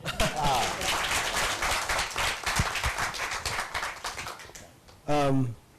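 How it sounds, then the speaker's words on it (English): An audience at a customer-experience panel discussion in Malaysia claps continuously for several seconds, then the applause thins out and a brief voice cuts in at the end. "Dr. Allen, applause please."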